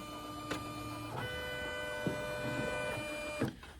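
A Poolin EOC06 embroidery machine quilting with a magnetic hoop gives a steady mechanical whir with a bright tonal whine and a few soft clicks and knocks, close and continuous with no talking.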